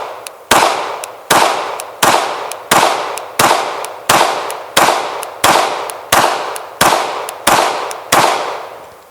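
A PSA Dagger pistol fires at a range: about a dozen sharp, loud shots come at a steady, evenly spaced pace, each with a short decaying echo, and no voices are heard.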